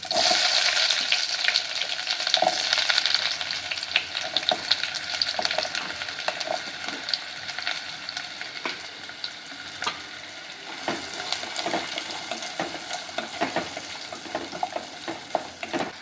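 Chopped large onion fries in oil for a dhaba-style palak paneer butter masala, a continuous close sizzle punctuated by frequent scraping and clacking of a spatula stirring through the pan.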